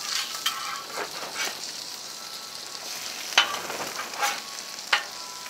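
Sausage and eggs sizzling on a Blackstone griddle, a soft steady frying hiss broken by a few sharp scrapes and clinks of a spatula flipping them.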